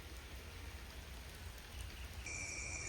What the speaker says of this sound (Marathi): गाडी धुतल्यावर पाऊस चालू झाला.